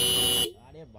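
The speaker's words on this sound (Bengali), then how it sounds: "এটা পালসারের হর্নের সাউন্ড" A Bajaj Pulsar motorcycle's D70 dual horn blares in one loud, steady, buzzy tone for about half a second, then cuts off abruptly as a person starts talking.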